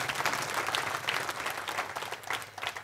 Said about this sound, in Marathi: त्यासाठी एकदा तुमच्यासाठी जोरदार टाळ्या देऊया